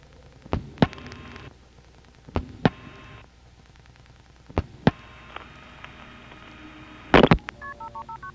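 A number is dialed into a 1976 step-by-step XY telephone exchange in Greencastle, Pennsylvania: sharp relay clicks, steady humming tones between them, then a quick run of tone pips, heard alone.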